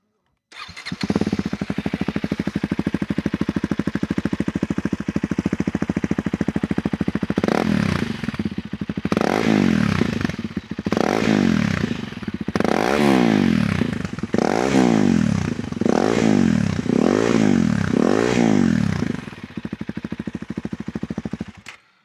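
A KTM 390 Adventure R motorcycle fitted with a Norifumi exhaust idles steadily, then gets a series of sharp revs, about six throttle blips in rhythm, close and loud, before settling back to idle.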